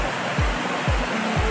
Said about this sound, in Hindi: यहीं से पानी बहता है